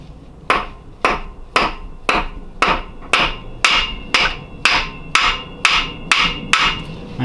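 Sharp metallic hammer blows ring out one after another at a steady pace while driving a clutch part into place on an Acura RSX, about fourteen strikes, close and fairly loud.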